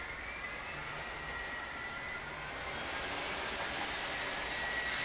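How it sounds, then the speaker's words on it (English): A model railroad diesel locomotive's simulated engine sound hums and whines steadily, growing slightly louder as it starts to move, with no voices. "the sound the engine makes as it starts moving"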